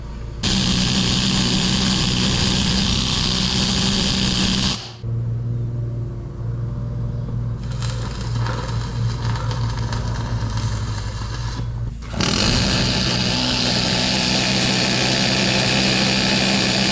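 Arc welding a simulated crack in cast iron with a stainless steel rod: a loud, steady crackling sizzle of the arc that stops briefly twice, alone and close throughout.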